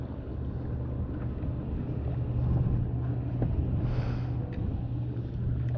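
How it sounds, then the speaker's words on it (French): A sailboat sailed single-handed moves steadily through water with a constant low rumble of wind and hull noise, and a brief swish of spray partway through. "Le bateau va filer gentiment."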